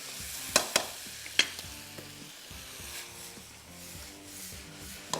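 Potato and onion fry in a pan for a desi dish, with a few sharp scraping stir strokes over a constant close sizzle, then quieter steady frying without talk.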